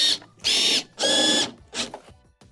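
A power drill drives screws back into a Whirlpool refrigerator panel in short whirring bursts, two long and a couple shorter, close up with quiet gaps between.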